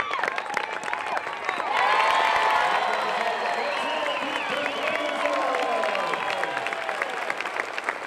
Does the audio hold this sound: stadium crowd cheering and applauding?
yes